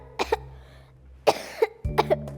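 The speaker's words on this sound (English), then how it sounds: "you are always coughing" A young woman coughs in three separate bursts, each made of two or three sharp hacks, close to the microphone with quiet pauses between them and no talk.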